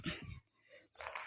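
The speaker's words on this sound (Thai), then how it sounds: "มันนี่หอนหอน" A dog gives a brief whimpering howl, faint and a little distant, with a short pause before the cry comes again.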